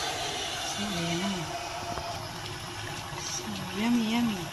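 Water is poured into a cooking pot of carrots and celery stems, a steady running splash and gush that swells near the end, while a person talks over it in a home kitchen.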